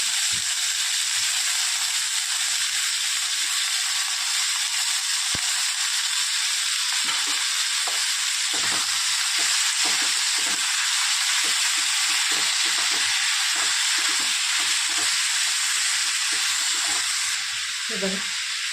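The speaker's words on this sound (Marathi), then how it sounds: "आता टाकते सहा टमाटे" Six tomatoes sizzling in a pan with coriander for tomato chutney, a steady loud hiss of frying throughout, with occasional spatula scrapes and stirring knocks.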